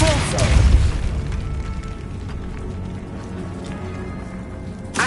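A Depulso spell cast in the Hogwarts video game, a single loud, deep booming blast at the start that rumbles and fades, followed by quieter game ambience and a faint click at the end.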